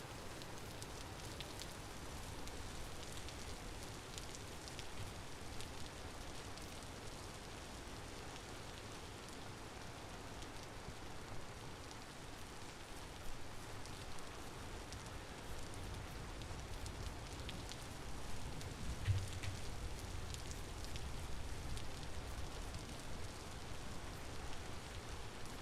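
Rain falls in the survival video game Vintage Story, a faint, steady, even patter that runs unbroken with no talking over it.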